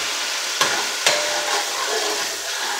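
Sofrito and sauce sizzle in a pot as a spoon stirs them, giving a steady close frying hiss with a couple of sharp scraping clinks.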